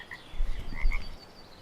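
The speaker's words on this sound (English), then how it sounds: "Oh, I just heard a frog again." Frog croaks from the Russian Fishing 4 fishing game, a few short separate calls at moderate distance over a quiet low ambient hum, with no talking.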